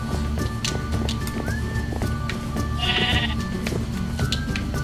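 Sheep bleating in the video game Minecraft, several short wavering bleats over a running game soundtrack, with footsteps and a brief bright chime in the middle.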